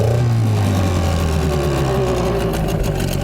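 A small two-stroke engine running on cheap Gazprom two-stroke oil revs up steadily and loudly from a rough idle, its buzzing note rising and holding close by with no talk.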